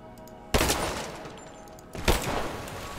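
Gunfire in Rise of the Tomb Raider: two loud, sharp blasts about a second and a half apart, each followed by a lingering rumbling tail.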